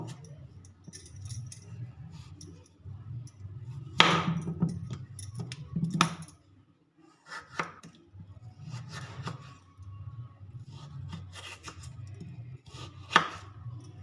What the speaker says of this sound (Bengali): আলুটাকে আমি এরকম লম্বা লম্বা সেপে কেটে নেব